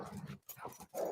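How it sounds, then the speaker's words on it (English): Several dogs, including a blind one, make brief close sounds, short growls or whimpers, between quiet pauses. "Here's the dogs I'm sitting."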